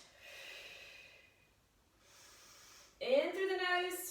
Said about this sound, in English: We're breathing out for 3, 2, 1.